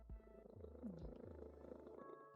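Close, continuous purring from a pet cat, a low rhythmic rumble repeating with each breath, alone in a quiet indoor space.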